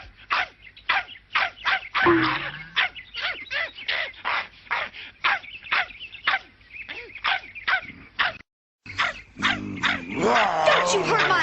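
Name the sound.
dog barking in a cartoon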